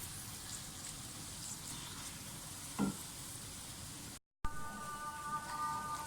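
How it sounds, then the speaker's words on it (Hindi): Quiet, even sizzling of onions frying in a pan until light brown, with a soft scrape near the middle and a brief gap before a brighter sizzle returns. "प्याज को अच्छी तरह से फ्राई कर लें, ब्राउन प्याज करेंगे, थोड़ी लाइट ब्राउन।"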